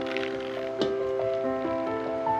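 Julienned radish slides and drops into thick kimchi seasoning paste, soft wet squishing and patters close by, with a faint tonal hum behind and no speech.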